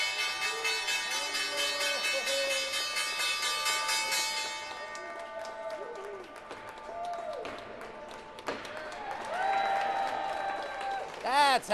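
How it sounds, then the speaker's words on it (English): A crowd applauding and cheering on the New York Stock Exchange trading floor at the closing bell, with a sustained bell ring early on, then a busy wash of clapping, shouts and chatter that swells again at the end. "the crowd goes wild down here on the trading floor of the New York Stock Exchange"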